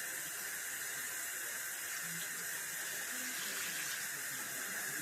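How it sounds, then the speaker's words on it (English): Hot water runs steadily from a sink tap into a basin, a constant close hissing stream with no voices. "This is hot water I'm trying to get started here."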